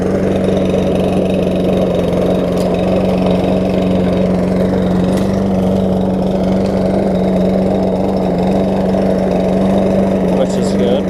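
A Husqvarna AWD self-propelled push lawn mower engine runs steadily at idle, a loud, constant droning hum that continues without a break.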